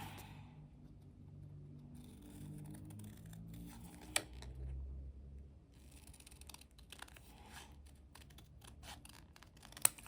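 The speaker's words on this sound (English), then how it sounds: "Let me cut this out." Scissors cut out a paper sticker, giving quiet crisp snips and rustling paper at close range, with a few sharp clicks and a low background hum and no talking.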